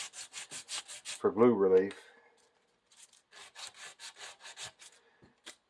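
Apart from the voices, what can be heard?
sanding flat spot on wooden chair spindle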